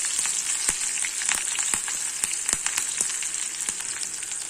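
Curry leaves, ginger and green chili fry in hot oil with a steady bright sizzle and scattered sharp pops, close and continuous, with no voices.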